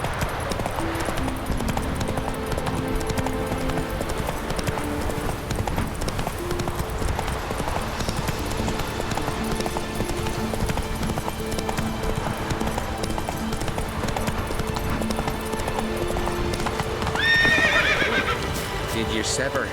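Roach the horse galloping in The Witcher 3, with steady rapid hoofbeats under game music and character speech, and a whinny near the end.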